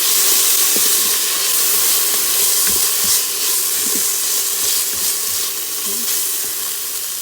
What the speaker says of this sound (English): and then the ginger garlic paste. Just fry it for a few minutes.